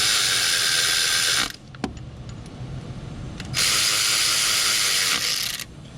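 A ratchet with a swivel extension torques bolts on a 2014 VW Jetta 2.0L engine during a timing belt job, giving two loud bursts of rapid clicking separated by a quieter pause with a single knock.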